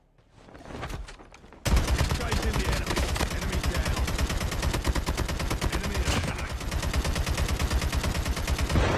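Rapid automatic gunfire in the Call of Duty video game, a fast continuous rattle of shots that starts abruptly after a brief quieter lead-in and stays loud and close, with some voice underneath.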